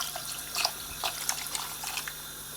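Water is poured into a pot of lentils, cumin and spices for bun kebab, a faint, close trickling and splashing with small irregular bursts, no talk.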